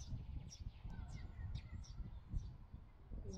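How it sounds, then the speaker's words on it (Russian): Small birds chirp outdoors near a Latvian village, with faint repeated high calls scattered across a steady low background rumble of wind or distant noise, and no voices. "Птички. Слышно?"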